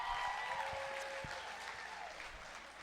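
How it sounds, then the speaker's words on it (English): Comedy club audience clapping in response to a stand-up comic, a dense, even patter of many hands close up that fades slightly over about three seconds. "Y'all clap if you got kids."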